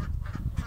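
Ducks honk and quack in a barnyard, several short calls overlapping in a close, busy burst of fowl noise with chickens nearby.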